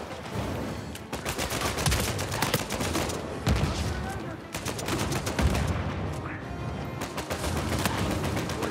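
Rapid gunfire from Uncharted 4 multiplayer rattles in dense bursts, sharp cracks repeating across the stretch with brief gaps, loud and close amid game noise, with a player's voice talking over parts of it.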